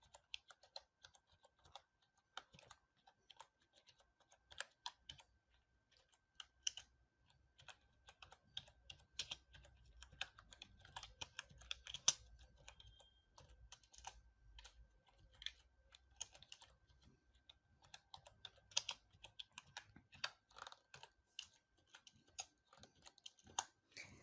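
Computer keyboard keys clatter steadily while code is typed for a beginner programming exercise, quick irregular bursts of close, soft clicks with short pauses, no talking.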